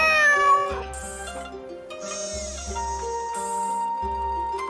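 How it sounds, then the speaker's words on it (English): Robotic cat from the Nancy Drew adventure game Shadow at the Water's Edge meowing with a synthetic, tonal voice over a bed of game music, a few drawn-out electronic mews close and clear. "Who's my favorite robotic cat?"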